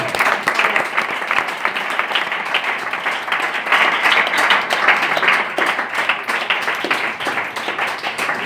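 An audience applauds at a church sermon, dense continuous clapping filling the whole stretch, loud and even with no voices over it.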